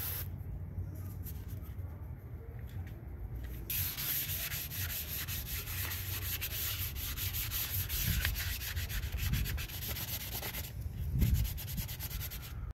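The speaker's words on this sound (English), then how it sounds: "let's go ahead and do a little wet sanding" Steady hand wet sanding on an old aluminum wheel, a continuous gritty rubbing that keeps going with slight shifts in pressure and pace.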